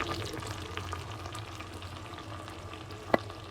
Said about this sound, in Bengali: এখন দিয়ে দেবো চিংড়ি মাছ আমি এরকম কিছুক্ষণ নেড়ে ছেড়ে নিব